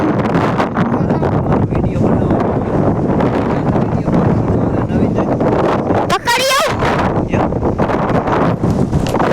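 Strong wind buffets the microphone with a constant heavy roar, while a voice briefly speaks and a high whine rises near the end.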